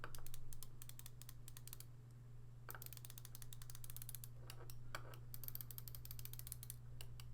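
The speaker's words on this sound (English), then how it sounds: "you can really hear and feel the distinct clicks of it" Rapid, crisp mechanical clicks in quick runs, pausing briefly between bursts as the tight bezel of an Islander ISL 59 dive watch is turned, with a steady low hum underneath.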